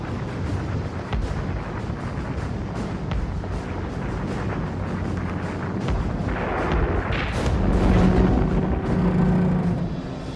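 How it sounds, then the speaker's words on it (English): Heavy anti-aircraft guns on the battleship Tirpitz fire a sustained barrage at bombers over a fjord, a dense continuous roar of booming blasts and rumble, loud and unbroken, with no voices. "From the deck of the Tirpitz, her guns unleash a barrage of fire"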